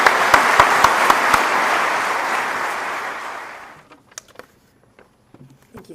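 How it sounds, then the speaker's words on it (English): Audience applause fills a hall at an athletic hall of fame induction ceremony, loud and steady for about four seconds, then fading out into near silence with a few scattered last claps. "she deserves our recognition and applause tonight and beyond."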